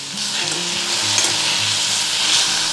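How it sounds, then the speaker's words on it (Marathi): Aloo methi, potatoes with fenugreek leaves, is sautéed in a pan with a loud, constant sizzle and a spatula stirring and scraping, close by and with no voices. "हे छान परतून घेणार परत"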